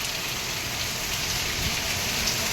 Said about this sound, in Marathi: भयानक पाऊस पडतोय